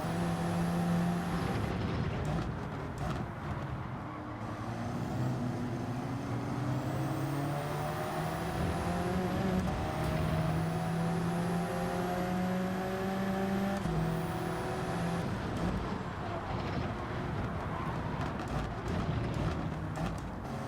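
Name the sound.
race car engines in video game Gran Turismo 7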